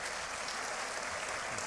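Steady, dense applause from a conference audience at a regional congress, continuous clapping filling the whole moment without voices over it.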